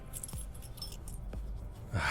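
In the horror game Nightmare Frames, a bunch of keys jangles softly while one is tried in a lock: faint metallic clinks with a couple of sharper knocks, then a louder rattle at the end.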